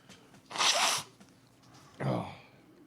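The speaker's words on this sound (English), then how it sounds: "I'm going to blow my nose." Two forceful nasal blows, a longer one followed by a shorter one after a pause, close and fairly loud.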